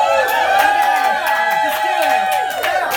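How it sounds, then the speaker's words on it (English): An audience at a San Francisco party cheers and whoops loudly in a sustained wave, with clapping and voices running through the noise. "What is all this cheering?"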